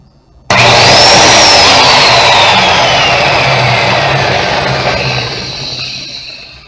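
A repaired industrial polisher whose broken cord was replaced switches on abruptly and runs loud and steady with a high whining tone that slowly falls, then starts to ease off near the end.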